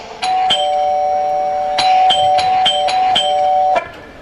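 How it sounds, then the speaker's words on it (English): A doorbell chimes repeatedly, bright ringing tones sounding in several quick bursts, clear and close with no one talking. "Then they hear the ring of the bell."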